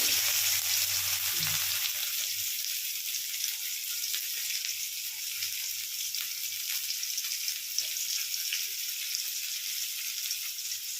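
Onion sizzling in hot oil in a pan, a loud burst as it goes in, then a steady, even frying hiss that carries on without talk.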